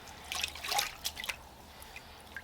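A two-year-old wig is dipped into a bucket of lukewarm water, giving a brief, faint burst of splashing and dripping followed by a few scattered drips in a quiet room.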